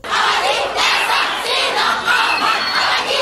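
A crowd of striking schoolchildren shouts and chants together in a street in Lokossa, Benin, a dense, loud, continuous roar of young voices rising and falling.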